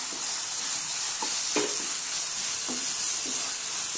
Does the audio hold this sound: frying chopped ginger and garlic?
yes